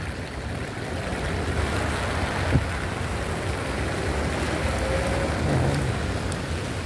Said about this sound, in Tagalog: umuulan naman.